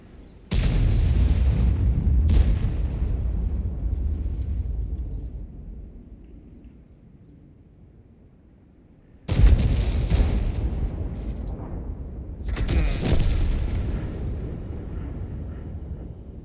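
Heavy artillery booms in World of Tanks, two deep blasts with long rumbling decay, then another cluster of loud explosions after a quiet stretch.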